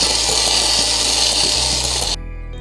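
A kitchen blender whirs loudly and steadily, mixing frozen strawberries into purée for homemade strawberry ice cream, then cuts off abruptly near the end, leaving a low hum.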